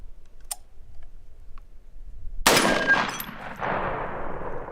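A firearm fitted with a red dot sight fires at a target, a single loud sharp gunshot with a long echoing decay, preceded by faint clicks.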